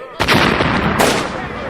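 Gunshot sound effect in a narrated Ukrainian folk tale about the Tatar strongman Ahmed, a loud, close burst of heavy booming shots that rolls on briefly and then fades, with no talking over it.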